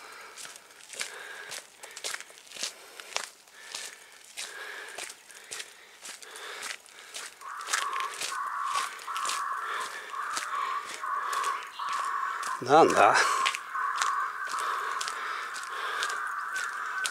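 Crows caw repeatedly at a moderate distance while footsteps crunch nearby at the Mineyama burial mound in Taishi, Japan; a quick spoken exclamation is heard, and a louder burst of cawing comes near the end.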